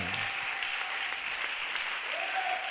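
Applause from a church congregation at a worship service, steady and dense throughout, fairly loud and close, with no talk over it.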